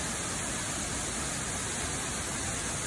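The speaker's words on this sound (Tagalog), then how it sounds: "Ayan, nakita po natin yung falls dyan." A waterfall on the Taki-Jinja Shrine hiking trail pours in a steady, close, full-band rushing roar, unbroken and without voices.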